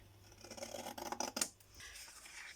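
Scissors snip small notches into white paper, a few quick close cuts and rustles, with no talking.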